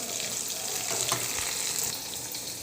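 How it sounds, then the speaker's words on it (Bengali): Slices of eggplant fry in hot oil in a pan, giving a continuous close sizzle with faint spatter and a few soft stirring knocks, no voices. "তো এখানে কিছু বেগুন ভাজি করেছি, আরও কিছু ভাজি করতেছি।"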